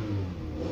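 A 2013 Seat Ibiza 2.0-litre engine revving after throttle body cleaning, a close, loud, sustained mid-pitched rev with a steady droning tone and no voices.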